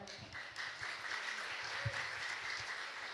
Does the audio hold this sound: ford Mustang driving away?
no